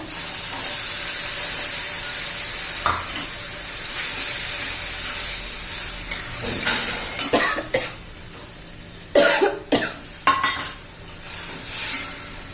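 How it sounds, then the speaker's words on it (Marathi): Chickpeas go into a pan of hot oil and cooked masala with a steady sizzle and hiss, followed by the clatter and scrape of a metal spoon stirring against the pan in several bursts. "आता हे चणे घालून घेऊया"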